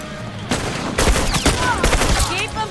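Bursts of rifle fire in a multiplayer shooter game (Factions), loud, rapid volleys repeating across a few seconds amid other gunfire and game effects.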